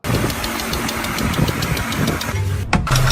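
An idling car engine with a faulty rocker arm and valve, giving a fast, regular ticking knock from the valve gear, close and steady, briefly interrupted near the end.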